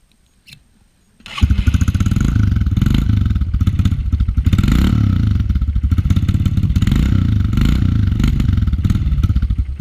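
A Honda CRF125F dirt bike engine sputters to life and keeps running loud and close, with a steady, rapid chugging idle throughout.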